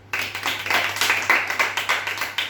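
A few people clap together during a children's game at home, a short burst of quick, fairly close handclaps in a steady rhythm.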